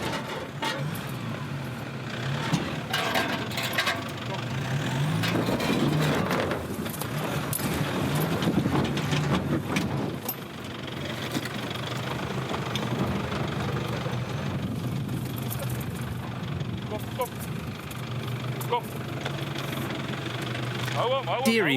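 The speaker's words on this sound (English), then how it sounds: "The Hilux needs more momentum to mount the boulder." Toyota Hilux 4x4 engine revving and labouring as it climbs over a boulder during a club off-road challenge, a loud, steady low drone with knocking and scraping bursts, with people talking over it.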